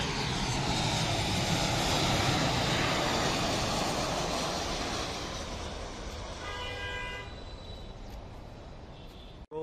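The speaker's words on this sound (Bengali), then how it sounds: "এটি স্কাই আপ এয়ারলাইন্সের বিমান এই বিমানটি ওমানের রাজধানী মাস্কোট থেকে ঢাকায় অবতরণের জন্য এগিয়ে আসছে" A Sky Up Airlines jet from Muscat approaches to land at Dhaka in fog, a loud broadband engine roar that builds, holds, then fades with whining tones as it passes.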